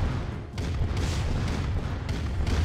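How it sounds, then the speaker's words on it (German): A satellite tech centre blows up in the strategy game C&C Red Alert, heard as a steady, dense rumble of booming blasts that holds loud across the whole moment. "Das Ding explodiert, der Satellit."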